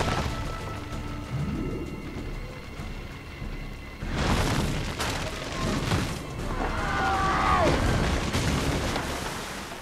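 A flying machine crashes into the ocean in Assassin's Creed II, a loud rumbling crash with booming, explosive bursts swelling up over a noisy game backdrop, with a whooshing tone sweeping through.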